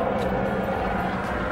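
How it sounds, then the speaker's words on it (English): Steady, broad rumble of a helicopter passing overhead in Pompano Beach, Florida, filling the whole moment with constant droning noise. "so they got helicopters flying around"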